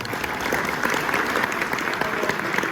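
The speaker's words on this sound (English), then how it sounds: "So we'll still give a round of applause to Oliver anyway." An audience at a karting awards evening claps steadily, a dense, continuous patter of many hands held for the whole stretch.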